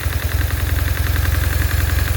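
A BMW GS 1150 motorcycle idles steadily, its twin-cylinder engine thumping in an even, close, loud rhythm with no voices over it.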